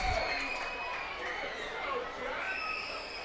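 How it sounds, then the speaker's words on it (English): A crowd at a minor league baseball game between the Hartford Yard Goats and the Reading Fightin Phils cheers steadily in the distance, with an announcer talking over the noise throughout. "Crowd cheering on Jack Conley"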